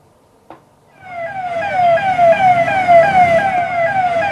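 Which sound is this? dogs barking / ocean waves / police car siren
police car siren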